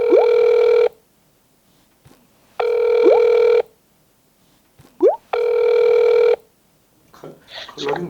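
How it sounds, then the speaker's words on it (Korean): Three long bursts of an electronic phone ring tone repeat with pauses between them, loud and close, with brief voices and noises in the gaps. "자 그러면 진짜 실제로 전화 한번 해보겠습니다."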